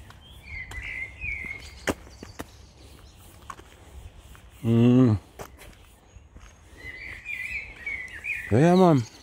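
Birds chirp in repeated high bursts during an evening walk outdoors, with footsteps shuffling throughout and two loud low voice-like swells from nearby people breaking in.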